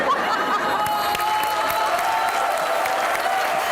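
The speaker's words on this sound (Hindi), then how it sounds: "नुमान के लिए तालियां होनी चाहिए, तालियां होनी चाहिए" Studio audience of a comedy chat show clapping in a steady, lively burst with a few chuckles and murmured voices mixed in.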